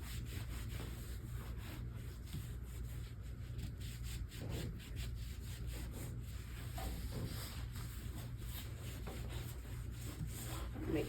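A cloth soaked in TSP cleaner is wiped across kitchen cabinets, making quiet, continuous rubbing strokes with a faint rhythmic scrub and no talking.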